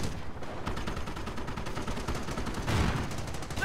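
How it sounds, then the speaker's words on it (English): Sustained gunfire aimed at a sniper in the World War II strategy game Company of Heroes, with dense overlapping shots and bursts rolling continuously, growing louder and heavier toward the end. "Sniper taking fire!"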